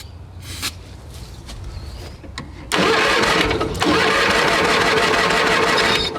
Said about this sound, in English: that little battery is turning this big baby over